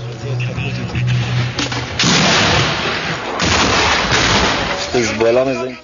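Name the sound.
gunfire from the village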